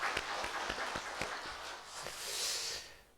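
A church congregation breaks into applause, a dense wash of clapping hands with a few sharper individual claps standing out, steady for about three seconds before fading away.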